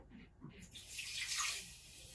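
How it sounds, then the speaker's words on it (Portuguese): Half a cup of water pours steadily into a saucepan, a splashing rush that builds and swells midway, fairly close and with no talking. "Agora eu vou estar colocando meia xícara de água"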